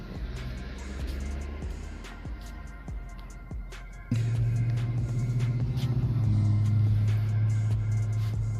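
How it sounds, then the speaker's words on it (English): Cars drive past with engine rumble, the sound growing into a louder, sustained engine drone partway through as a vehicle moves close by. "These fucking cars."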